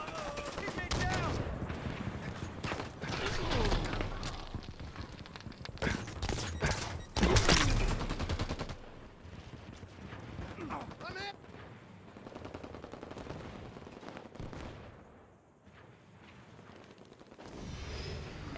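Rapid automatic gunfire and explosive blasts from Halo 5 multiplayer on a beach, with a Wraith tank involved, dense and loud in bursts, easing off later, with game announcer voice lines over the fighting.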